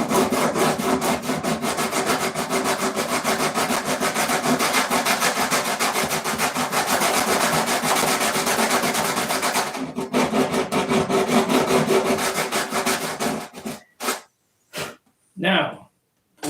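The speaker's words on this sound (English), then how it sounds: "sandpaper on the stick" Sandpaper wrapped on a stick rubbed back and forth on wood during a P-47 model assembly, a loud continuous rasping scrub close up for about fourteen seconds, ending in a few short separate strokes.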